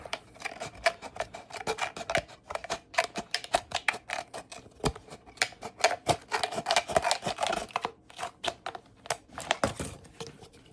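Scissors or a blade cut through the top of a plastic container being made into plant labels, producing a long, dense run of sharp, rapid snips and crunching clicks, close and fairly loud, with no talking.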